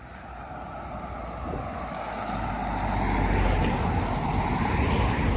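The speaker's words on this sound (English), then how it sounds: "down there with the waters. Look how churny that is" Churning floodwater rushes below a collapsed road during major flooding in Scotland, a steady broadband roar that swells slightly louder toward the end, mixed with gusty wind noise and no talking.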